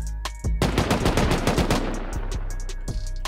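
Rapid bursts of automatic turret gunfire in the survival video game Rust, loud and close, with sharp repeated shots crackling over several seconds after a brief quieter opening.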